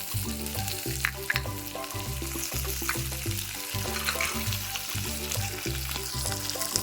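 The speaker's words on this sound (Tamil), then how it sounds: "நல்லா ஃப்ரை பண்ணி எடுத்துக்கலாம்" Pirandai (adamant creeper) fries in a pan for chutney, a steady close sizzle with rhythmic stirring scrapes and clinks repeating throughout, with no talk over it.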